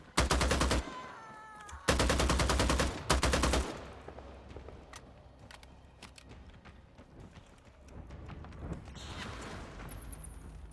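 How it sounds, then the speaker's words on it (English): Gunfire in VtM Bloodhunt comes as three loud, rapid automatic bursts early on, then quieter scattered shots and movement noise with a faint high tone near the end. "Who was shooting at me?"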